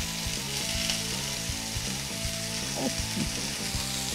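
Burgers fry in a hot pan with a dense, steady sizzle, close and continuous, while a few soft clicks and scrapes from turning or stirring come through on top.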